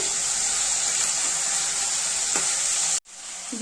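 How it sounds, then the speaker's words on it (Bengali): Vegetables sizzle steadily in a hot pan, a close, continuous frying hiss that cuts off abruptly near the end. "সবজিটাকে ভাজা করে নিতে হবে"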